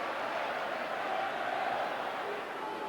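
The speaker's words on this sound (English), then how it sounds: "as the crowd pick up the England chant" A football crowd at Wembley during England v Argentina chants an England song, a steady, distant, sustained roar of many voices with a faint melodic drone running through it.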